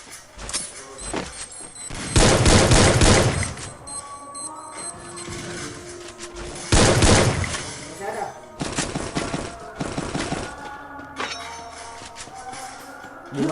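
Gunfire from a shooting video game comes in two loud bursts of rapid shots, each lasting about a second, separated by quieter stretches of softer clicks and game noises.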